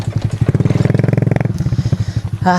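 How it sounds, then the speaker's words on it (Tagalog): A motorcycle engine chugs nearby with a rapid, pulsing rhythm, then fades before a brief rise in pitch at the end. "Ito na yung motor."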